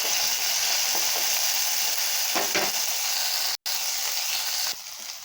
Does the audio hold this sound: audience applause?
no